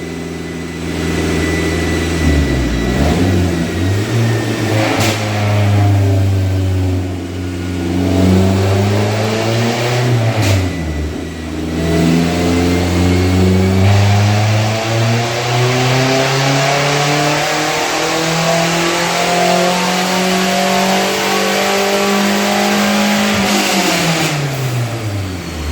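A Toyota ST204 Celica's 5S-FE four-cylinder engine, 198k+ miles, fitted with an AMR500 supercharger, revving on a dyno: loud, steady engine drone climbing and falling in pitch over repeated pulls, close and alone.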